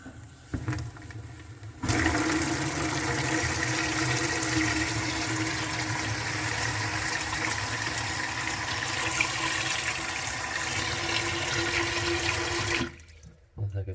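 Water gushes loudly and steadily from a pipe under a Pfister faucet for several seconds after a brief quiet start, then cuts off abruptly.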